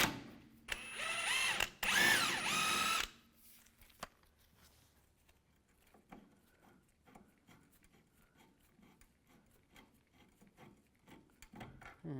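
A bolt on the shock mount of a 1998-2010 Volkswagen Beetle is removed with a 16mm socket and wrench: a loud burst of power-tool spinning for a few seconds, followed by quieter scattered ratcheting clicks and metallic handling.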